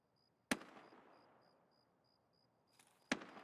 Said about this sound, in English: Now that sounded like someone shooting towards the south side of Stronghold